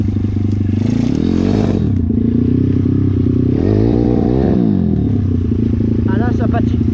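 A 150 YX V3 dirt bike engine revs hard and rises and falls in pitch as the rear wheel spins in swampy mud, loud and close, with clattering and scraping throughout.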